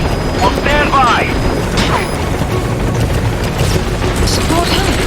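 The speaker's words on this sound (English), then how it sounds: "Support helicopter has arrived." A support helicopter arriving in the video game Metal Gear Solid 5, a steady loud rotor and engine roar with mechanical clatter and a few short radio-style voice bursts over it.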